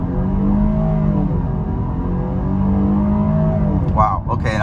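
A 2022 Jeep Grand Cherokee L Limited pulls away hard from a stop, its engine note rising steadily and loud from inside the cabin, with a brief shift-like break near the end.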